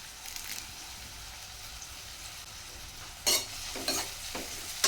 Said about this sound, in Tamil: கூடவே கருவேப்பிலையும் சேர்த்துட்டு வதக்கி விட்டுக்கலாம்.